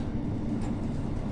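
A train rumbles steadily through Holešovice station (Bubny) in Prague in the evening, a low continuous rolling drone of rail cars heard from on board, moderately quiet, with no one speaking.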